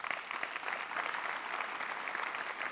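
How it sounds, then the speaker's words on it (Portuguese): A church audience applauds steadily, a dense wash of many hands clapping at close range that holds an even level throughout with no voices over it. "eu peço um aplauso para eles"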